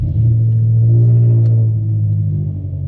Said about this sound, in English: I just love how that cranks. That cold start crank, man.